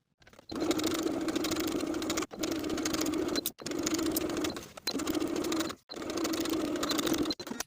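Sewing machine stitching a collar seam on a denim jacket, running in five steady bursts with short pauses between them, close and fairly loud, with no talking.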